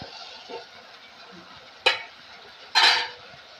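A spoon stirring tomato and drumstick curry (mango drumstick pulusu) in a pot makes two sharp, close clanks against the metal over a quiet, low background hum.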